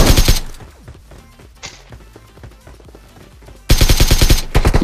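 Loud bursts of rapid automatic gunfire in BGMI open and close the passage, with scattered lighter shots and clicks in the quieter stretch between.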